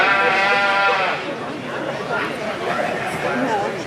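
Border Leicester sheep bleat loudly and repeatedly in a livestock sale ring at the Ohio Showcase Sale, the bleats overlapping with voices and crowd chatter nearby.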